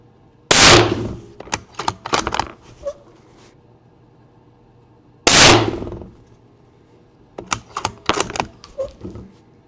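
Budget long-range hunting rifle fired outdoors, two sharp loud shots several seconds apart, each followed by a burst of metallic clicks and clatter from the bolt being worked.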